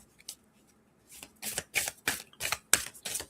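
Stiff oracle cards shuffled by hand, a series of crisp riffling bursts that start sparse and come quicker, close and dry with no talk.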